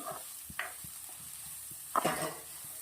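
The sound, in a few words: onions frying in a pan with mustard seeds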